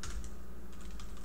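Fingers type on a computer keyboard while entering text into an Excel spreadsheet cell, a quick run of close, light key clicks over a low background hum.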